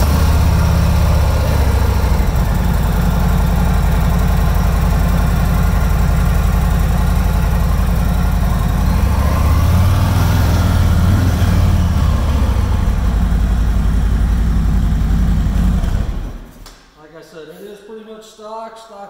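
A 2017 Harley-Davidson motorcycle with stock exhaust idles close by, a loud, throbbing low rumble that holds steady for about sixteen seconds. It then drops away sharply, leaving quieter, scattered sounds.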